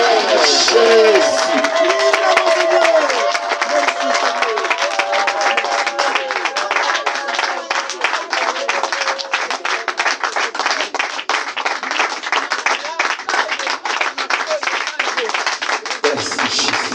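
A church congregation breaks into sustained applause, a dense and loud patter of many hands clapping steadily for the full stretch, with voices and cheering mixed in and a preacher speaking over it at the start.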